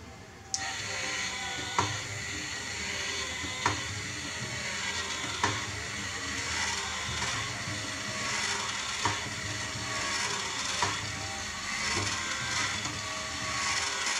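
A cheap 100 RPM geared DC motor runs underpowered on a 3 volt supply, giving a steady mechanical whir with a faint regular tick roughly every two seconds, close up and alone.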